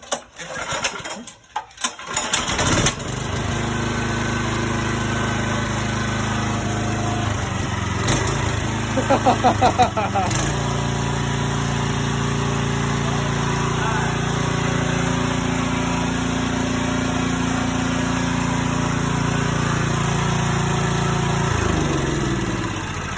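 A Predator 301cc small engine sputters through a few start attempts, then catches and runs with a loud, steady drone for the rest of the clip, with a brief rev change midway and near the end.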